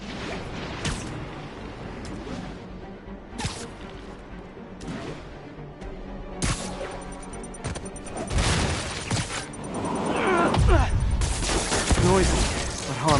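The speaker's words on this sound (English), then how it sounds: "Police vehicle is taking fire." Gunfire strikes a police vehicle in Marvel's Spider-Man Remastered, with sharp scattered shots, mechanical clatter and rising bursts growing louder and denser toward the end, mixed with game voices.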